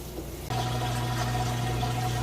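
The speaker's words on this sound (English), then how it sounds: "So we'll allow this to finish filling up and move through that wash cycle" A GE high-efficiency washing machine starts filling with water during its wash cycle: a quiet hum, then a sudden switch to a steady rushing inflow with a low motor drone, continuous and close.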